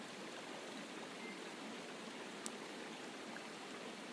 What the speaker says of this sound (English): you can hear water flowing